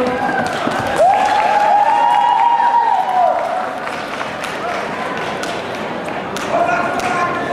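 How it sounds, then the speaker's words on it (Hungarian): Big applause and cheering from a convention crowd at a cosplay award ceremony, loud dense clapping with a whistle early on, then a softer steady patter that swells again near the end. "Nagy tapsot!"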